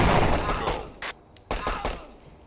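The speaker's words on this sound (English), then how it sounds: "we're going to blow both of these wall shots, and then at the same time, do I have a flashbang?" Breaching charges and a flashbang go off in the tactical shooter Door Kickers 2, with a loud booming blast that decays, followed by a few sharp gunfire-like bursts and thuds close together.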